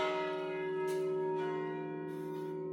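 Chromatically tuned church bells maintained by the McShane Bell Company ring out with sustained, layered tones and a couple of fresh strikes over the lingering hum.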